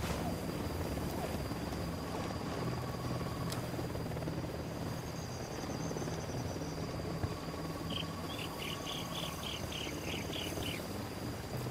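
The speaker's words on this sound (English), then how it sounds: "They got a chopper." An enemy helicopter in the video game Ghost Recon Wildlands holds a steady rotor drone throughout, with insect-like chirping bursts and faint tones layered over it and no speech.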